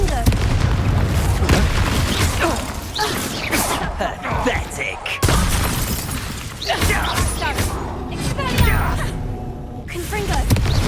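Confringo blasting spell explosions in the Hogwarts Legacy video game: a dense run of booming, shattering blasts and crashes during combat, loud and close, with voices talking over the clamor.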